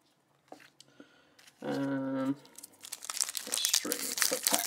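A Magic Origins trading card booster pack has its foil wrapper torn and crinkled open: a loud burst of crackling plastic that then gives way to scattered rustling and handling noise.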